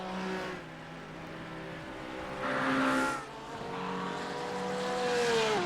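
GT3 race cars, a Porsche and a McLaren, circling a wet Lime Rock Park in iRacing: engines whine with rising, shifting pitch as they accelerate, a steady motor drone throughout.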